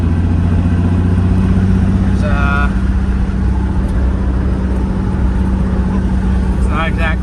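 Steady idle of a Mazda MX-5 NB fitted with a swapped Nissan VQ V6 engine, a continuous low engine drone close by with a few faint chirps over it.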